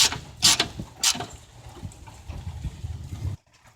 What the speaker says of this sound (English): got my 10mm socket. I'm just tying the mount back down.